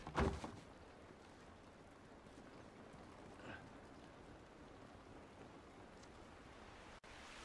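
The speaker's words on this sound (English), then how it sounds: "It's raining." Steady rain falls in the video game The Last of Us, a soft continuous hiss of drops with no voices over it.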